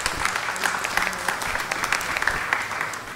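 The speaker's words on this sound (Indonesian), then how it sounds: "Tepuk tangan untuk kita semua." Audience applause at a regional arts performance at the Central Java pavilion in Taman Mini Indonesia Indah: steady dense clapping from a crowd, filling the room throughout with no talk.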